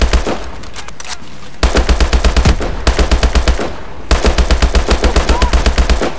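Rapid automatic gunfire from a futuristic Call of Duty: Advanced Warfare campaign battle, loud sustained bursts with brief pauses between volleys, close and dominating.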